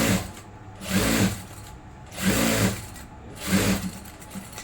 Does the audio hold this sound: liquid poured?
no